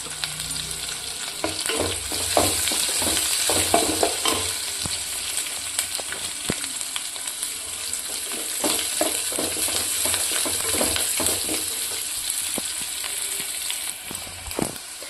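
Steady hot-oil sizzling with sharp crackles and pops as mustard seeds, cumin and curry leaves fry in a pan, continuous and close, with occasional stirring scrapes.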